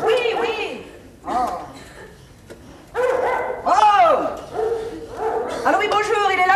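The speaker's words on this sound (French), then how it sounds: "Oh, ce chien, alors!" A dog barks and yips repeatedly in an indoor stage-play scene, loud and close, with several bursts and a whimpering whine, while people talk over and between the barks.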